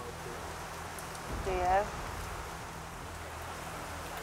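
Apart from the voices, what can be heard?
heavy rain pouring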